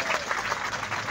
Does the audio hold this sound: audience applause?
yes